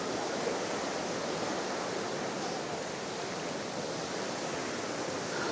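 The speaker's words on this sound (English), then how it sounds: "Check out this waterfall." A waterfall in Tasmania produces a steady, even rush of falling water, a continuous broadband hiss heard alone and fairly soft throughout.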